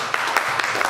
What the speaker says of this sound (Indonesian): Boleh kita tepuk tangannya semua